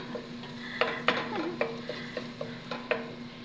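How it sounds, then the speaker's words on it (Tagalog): Okra and egg cooking in a pan, with a faint low sizzle under a run of sharp utensil scrapes and taps against the pan, spaced irregularly and close by. "Nagluluto ako ng okra."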